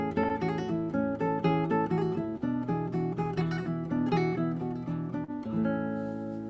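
Traditional classical guitar music, steady plucked notes and chords ringing continuously with a regular rhythm, played alone and fairly close with no talking.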